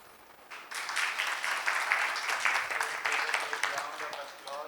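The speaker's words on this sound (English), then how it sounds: "Round of applause to Professor Juan Enrique for this marathon" Audience applause at the close of a university lecture course on economic theory. Broadband clapping rises after a quiet start and holds steady and fairly loud to the end.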